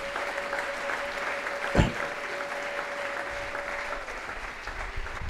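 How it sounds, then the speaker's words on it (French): A church congregation applauds during a sermon with a steady, dense clapping that fills the whole stretch, along with a faint sustained tone and one brief loud thump. "Acclame pour le Seigneur Jésus."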